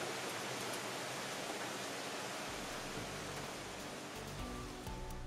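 Rain falls steadily outdoors, heard from inside as a faint, even hiss with a low rumble underneath, unbroken for a few seconds and with no voices.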